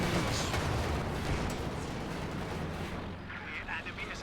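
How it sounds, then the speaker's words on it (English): A fragmentation bomb detonates in the strategy game Company of Heroes 2, a dense, loud rumbling blast of battle noise that stays heavy throughout, with a commentator's voice partly under it. "TwistedTootsy got a fragmentation bomb inbound here"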